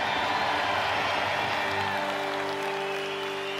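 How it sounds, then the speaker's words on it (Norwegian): A concert crowd applauds and cheers the horn section of the band, a dense, steady wash of clapping with sustained band tones ringing underneath as it slowly eases off. "Og så gir vi hele blåserekka en skikkelig ekstra applaus"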